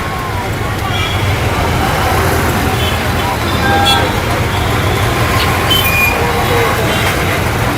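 Riding aboard a TNSTC bus through dense Trichy city traffic, a constant loud engine and road rumble fills the cabin, with scattered horn toots from surrounding vehicles.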